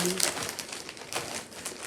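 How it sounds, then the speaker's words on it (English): A plastic bag holding an embroidery project crinkles and rustles close by in a steady series of crackling bursts, with some faint talking in the background. "I have it in a plastic bag because I have run out of project bags."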